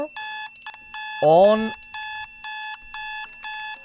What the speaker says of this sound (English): Here's an alarm. It's getting very loud.